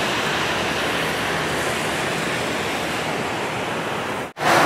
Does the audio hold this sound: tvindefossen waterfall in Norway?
yes